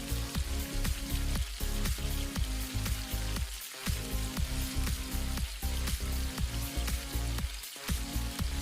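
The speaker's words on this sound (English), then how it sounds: "time to put our tofu and saute our tofu as well" Tofu sautéing in a pan with garlic and onion gives a loud, steady sizzle throughout, broken by brief softer gaps as the pieces are tossed and stirred.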